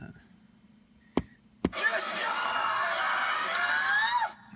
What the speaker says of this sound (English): A nice little Wilhelm scream.